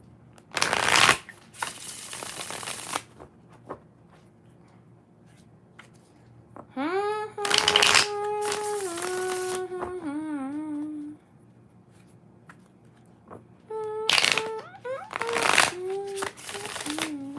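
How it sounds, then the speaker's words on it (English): Two bursts of tarot card shuffling, a quick riffle near the start and a longer flurry later, with a sustained tonal hum and speech-like harmonics in between. "4 shuffles."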